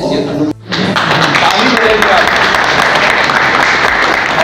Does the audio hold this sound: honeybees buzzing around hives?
no